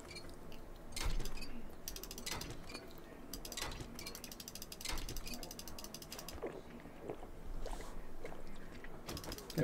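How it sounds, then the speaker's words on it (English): Repeated ratcheting clicks of a wrench being worked in the survival game 7 Days to Die, coming in several steady bursts at moderate loudness with no talk over them. "I'm gonna use the wrench."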